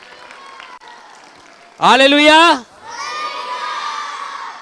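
An audience claps and cheers at a Christian church programme, a short loud burst of shouting and applause that follows a lone voice and fades into softer crowd noise.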